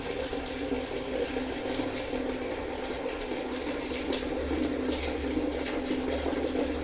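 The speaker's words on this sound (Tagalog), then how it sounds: "Bilis na nga siyang mag-drain kahit paano." Water runs and drains through a newly replaced bathroom shower drain, a steady close splashing gurgle that continues evenly throughout.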